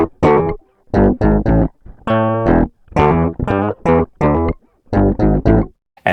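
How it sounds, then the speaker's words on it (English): A distorted, octave-lowered guitar loop repeats in short choppy bursts with brief gaps, gritty and loud, with no voices. "the key here is that I am adding distortion to this pitch down an octave"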